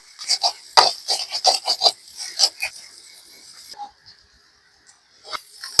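Indian pennywort (thankuni) leaves ground on a stone, giving a quick run of rhythmic rasping strokes up close that pause for a couple of seconds before scraping resumes.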